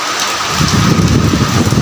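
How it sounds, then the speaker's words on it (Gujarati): Heavy rain pours down steadily, a dense close hiss with a low rumble underneath. "અત્યારે ને વરસાદ ફૂલ એટલે ફૂલ વરસાદ ચાલુ થઈ ગયો છે"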